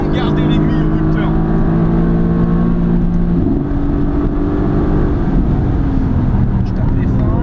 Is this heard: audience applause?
no